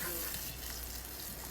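Chopped garlic sizzling in a hot pan, a steady close frying hiss with faint stirring, no talking.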